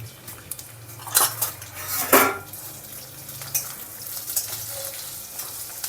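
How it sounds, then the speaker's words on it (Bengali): Boiled, lightly mashed potato is stirred in a pan with turmeric and dry chili powder, bringing metal utensil scrapes and clinks over a soft sizzle, with a couple of louder knocks against the pan. "এখন ভালো করে মিশিয়ে নিচ্ছি।"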